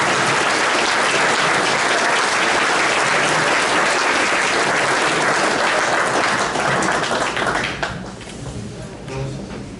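Dense, loud audience applause fills a hall of fame induction ceremony for a newly named title holder, steady for several seconds before thinning and tapering near the end.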